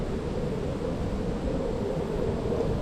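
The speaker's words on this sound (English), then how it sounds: "Look at that. It's a jet." A jet aircraft passes high overhead near a river dam trail, a steady low broadband rumble that holds evenly throughout with no voices.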